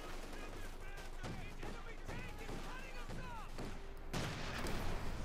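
Machine gun bursts rattle in Company of Heroes 2, an MG-34 firing rapid repeated volleys amid a busy battlefield, while a commentator talks continuously over the gunfire.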